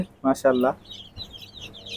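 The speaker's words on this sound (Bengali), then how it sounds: "দেখেন কত সুন্দর দেশি মুরগির বাচ্চা বেরোছে" Native chicken chicks that have just hatched in an incubator give faint, high, repeated chirps. A brief spoken word comes first.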